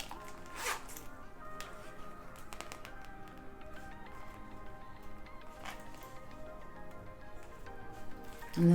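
Zipper on a replica Louis Vuitton wallet being slid, quiet close zipping and faint ticking handling noises, with a louder bump at the very end.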